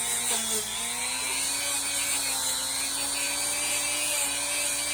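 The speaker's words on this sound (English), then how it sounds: "This is a soft bristle brush here for the Dremel, so it's not really taking anything away, it's not obliterating any of the details" Dremel rotary tool spinning a soft bristle brush to clear foam residue from a painted figure, giving a steady, high, close whine that holds nearly constant throughout, with no talk.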